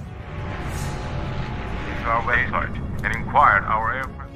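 An airplane in flight in an action film drones with a steady low rumble, continuous throughout, while a voice begins speaking over it partway in.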